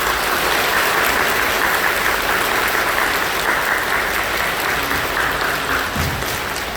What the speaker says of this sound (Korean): 손뼉이 손이 아플 정도로 하나님 앞에 손뼉을 크게 치며 감사 찬양 영광 올려드리겠습니다